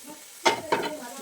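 Scrambled egg goes into fried rice in a hot pan, giving two quick scraping stirs with a spatula over a soft sizzle, close and fairly brief.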